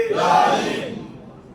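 A large crowd roars a loud, sustained collective shout of the Haidari slogan at a religious gathering on the Prophet's birth, swelling quickly and then fading out over a second or so.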